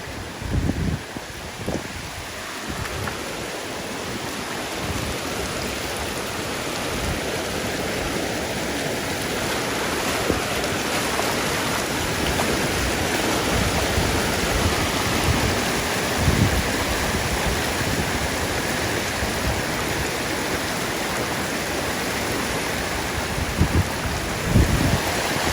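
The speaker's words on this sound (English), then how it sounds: "I have a small river flowing in the back of my house. Little rapids." A swollen backyard stream during a hurricane, roaring as a dense, continuous wash of rushing rapids, loud and close, with faint gusts and occasional thumps beneath the steady torrent.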